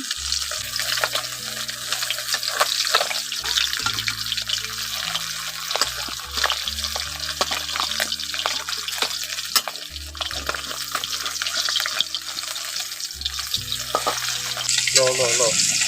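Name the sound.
fish frying in a pan, being turned over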